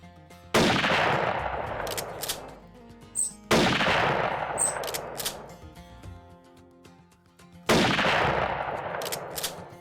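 Three loud rifle shots ring out during a deer hunt, spaced a few seconds apart, each with a sharp crack followed by a long echoing decay across open country.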